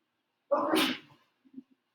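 One quick, fairly faint sneeze bursts out, followed by a brief soft snuffle a moment later.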